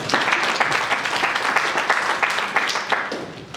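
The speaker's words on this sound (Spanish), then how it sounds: "démosle un fuerte voto de aplauso" Audience applause at a 2017 university law debate in Juliaca: a crowd clapping in a brisk, dense, even patter throughout, fairly close and without any talking.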